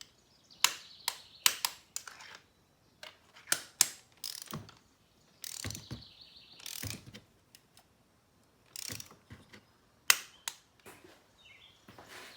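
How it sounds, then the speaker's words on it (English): A 3/8-inch torque wrench tightening spark plugs to 30 newton metres on a VW Golf Alltrack: bursts of close, crisp ratcheting clicks in short irregular runs, separated by pauses and one longer ratchet sweep. "We've got a little 3/8 torque wrench set up here"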